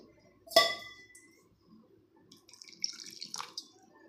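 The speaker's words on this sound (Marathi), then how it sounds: "आता आपण यामध्ये थोडंसं पाणी घालणार आहोत" Water is poured into a mixer jar holding ground rice and dal with salt. A single clink of the jar comes first, then a short, faint trickle of water.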